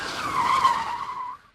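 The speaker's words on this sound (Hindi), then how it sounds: "उन लोगों की बाइक स्लाइड होकर गिर गई" A motorbike skids and slides along a road before crashing, a sustained scraping screech lasting over a second and fading quickly at the end, loud and close with no talk.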